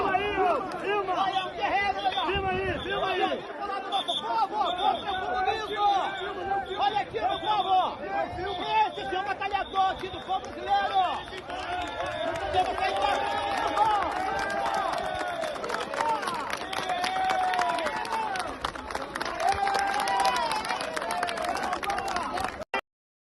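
A crowd moving along while escorting a police officer, a dense, continuous hubbub of many voices with chatter and shouts close by, scattered claps, sustained throughout before cutting off abruptly at the end.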